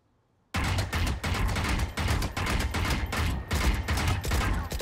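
Sustained automatic gunfire in a video game, loud rapid bursts starting abruptly after a brief silence and continuing with short gaps to the end.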